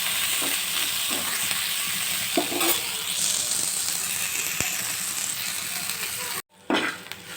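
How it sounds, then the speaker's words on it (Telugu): Chopped onion, green chilli and tomato sizzle and crackle steadily in hot oil in a pan for a chutney, a dense close frying hiss with a few stirring clatters, cutting out briefly near the end before resuming. "ఆనియన్, అలానే పచ్చిమిర్చి, టమోటో 3 వేసి బాగా మగ్గించుకోవాలి"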